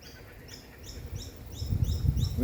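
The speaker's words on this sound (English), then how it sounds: "Yeah, see, that's a kookaburra." Kookaburras calling in the open, a series of repeated raucous chattering bursts at a moderate distance, rising in rhythm over faint background noise.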